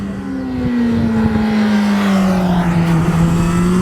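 Honda motorcycle engine under hard throttle, pulling a steady rising drone through the gears with quick clutchless upshifts, loud and close with no talking.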